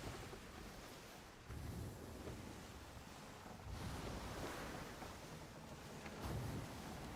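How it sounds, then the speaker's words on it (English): Seawater washes and splashes across a sailing ship's deck in the pirate game Skull and Bones, a steady rushing surf with wind noise that swells in a few soft surges, continuous and without speech. "I love the water splashing on the deck."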